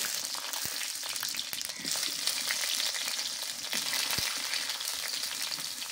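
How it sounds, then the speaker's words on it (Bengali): Aubergine pieces fry in hot oil with panch phoron, dry red chilli and bay leaf, giving a dense, close, steady sizzle broken by occasional sharp clicks of a spoon against the pan. "ভালো করে ভাজা হয়ে গেছে, আর কেটে রাখা বেগুনগুলো দিয়ে দিচ্ছি"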